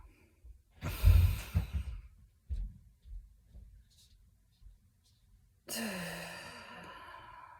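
Slow, deep breaths and a long sigh during a guided meditation, close and soft, with quiet pauses between them and a longer exhale near the end.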